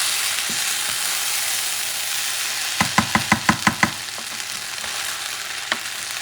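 Arroz carreteiro simmering in a pot, with a utensil knocking the pot in a quick run of about seven taps, a few scattered clinks afterwards, all close over a steady cooking hiss.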